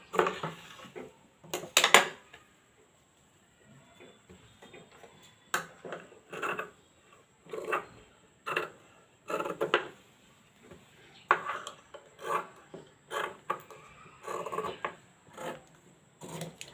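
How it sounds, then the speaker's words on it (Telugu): Scissors snip through blouse cloth on a table: a series of short, close crisp cuts and rustles in uneven bursts, with quiet pauses in between. "క్లాత్ ఈ విధంగా కట్ చేసుకోవాలి"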